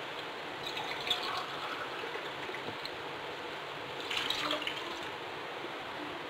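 Water steadily poured into a cooking pot while making rava kichadi, a continuous soft gushing that holds for several seconds with slight surges, close by.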